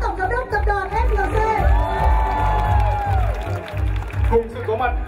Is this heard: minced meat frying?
no